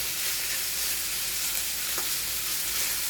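Meat sizzles and fries in a hot pan while it browns for pakbet, a loud, steady crackle with a brief stir partway through and no voices.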